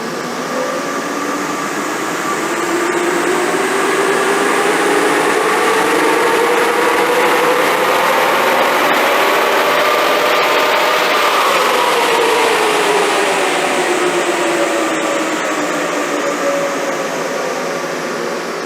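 Stock Nissan Navara engine running on a dyno: loud continuous engine drone whose pitch climbs steadily through the run and then drops back, with no talk over it.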